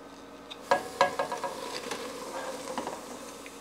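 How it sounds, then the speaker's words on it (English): Sugar being stirred into a sugary fruit-juice jelly mixture in a pot, a double batch, gives a few scraping, clinking strokes over a soft bubbling background. "I'm just gonna keep stirring it until it comes to a boil"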